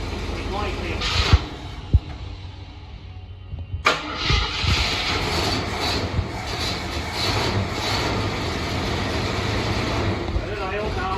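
A 1973 AMC Javelin engine cranks, then fires a few seconds in and keeps running and revving at a moderate level. People talk over it.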